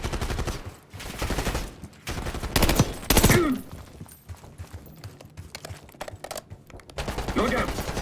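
Shotgun blasts and gunfire from the Black Ops 6 campaign, sharp repeated bursts spread across the clip amid game effects and music, some loud close shots and other quieter ones.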